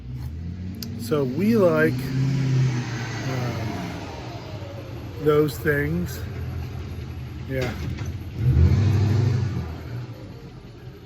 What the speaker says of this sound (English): a huge diesel truck with a push bumper and horns on the front of it